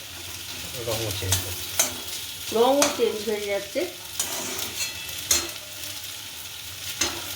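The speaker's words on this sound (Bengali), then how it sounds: "যত ভাজা হচ্ছে ততই কিন্তু ডালিয়াটা ঝরঝরে হচ্ছে" Broken wheat (dalia) fries and is stirred in a pan, a steady sizzle broken by sharp scraping strokes of the spatula, while someone talks over it.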